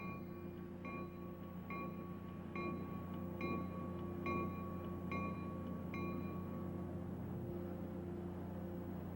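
A Coaster commuter train idles at San Diego's Santa Fe Depot with a steady low rumble and hum, while a bell rings repeatedly at an even pace through the first half, then stops.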